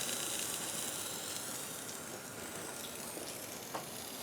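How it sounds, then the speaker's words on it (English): Steady hiss of steam leaking from a Grindmaster ESP2 espresso machine under rebuild, a continuous broadband rush that holds level throughout with a few faint clicks, no talking. "that one straight ahead is leaking steam"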